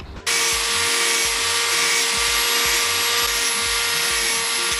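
A power grinder cuts off a hose fitting from a car's cooling system, starting abruptly and running as a loud, steady, close whine with a rhythmic pulsing undertone and no talk.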